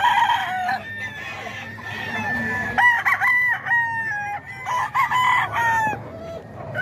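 Several roosters, nine-month-old gamecocks kept at a farm in Bocaue, crowing in overlapping cock-a-doodle-doos with clucks between them, close and loud, one crow following another throughout.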